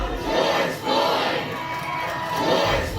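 A crowd of more than a thousand protesters beside the reflecting pool near the U.S. Capitol makes a loud, continuous roar of overlapping shouting voices.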